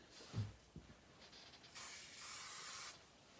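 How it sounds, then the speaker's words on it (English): A short hiss of spray adhesive from an aerosol can, one steady burst lasting about a second, preceded by a couple of faint handling clicks, close and fairly quiet. "But this one I am going to do with the spray adhesive"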